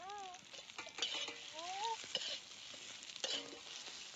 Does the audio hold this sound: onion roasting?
yes